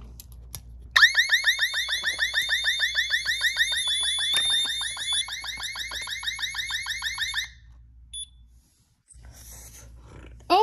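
Ademco security system keypad sounding a zone alarm, a fast pulsing electronic beep-warble repeating for several seconds at steady loudness before cutting off, then a brief chirp.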